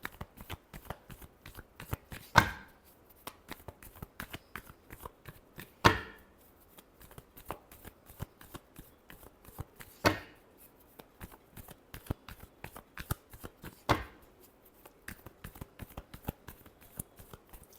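Tarot cards are shuffled in a long run of quick, crisp riffles and soft flutters, close and fairly quiet, with sharper slaps every few seconds as the deck is squared.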